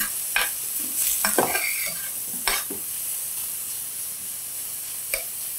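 Stuffed calamari browning in a frying pan gives a soft, steady sizzle. A few scattered stirring scrapes and clinks sound close by, with no voices.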